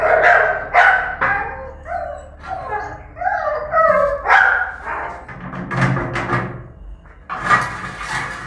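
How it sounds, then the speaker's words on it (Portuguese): Several dogs bark repeatedly and close by, agitated as they are released, with sharp barks and yips in irregular bursts throughout. "Já solta os cachorros, já mexe."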